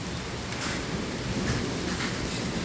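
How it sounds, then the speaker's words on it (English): Hail falls during a thunderstorm, a dense, steady hiss of countless hard impacts that blankets everything without pause, loud and close throughout. "Oh god, it's hailing."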